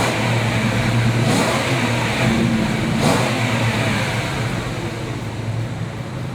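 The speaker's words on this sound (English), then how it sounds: "I could rev it up for you" A 2008 Range Rover Supercharged engine revs up a couple of times over a low, steady rumble, loud and close with no talking.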